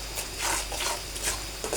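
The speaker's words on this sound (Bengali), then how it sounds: "সবগুলো উপকরণ একসাথে মিক্সচার করে নেব।" Spices being stirred into rohu fish roe in a cooking pan for a roe bhuna, heard as soft scraping and rubbing strokes with a faint sizzle, repeating in short, close bursts.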